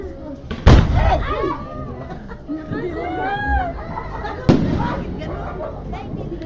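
New Year fireworks going off in Isabela, Philippines, two loud close booming blasts a few seconds apart, with voices and other festive noise in between.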